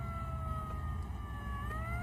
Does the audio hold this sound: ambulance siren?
yes